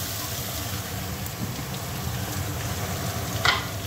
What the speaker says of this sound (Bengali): এখন আমি বুঝে এটাতে আর একটু নুন হলুদ দিয়ে আমি ভেজে নেব